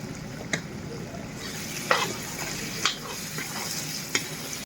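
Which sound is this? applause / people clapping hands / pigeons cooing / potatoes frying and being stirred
potatoes frying and being stirred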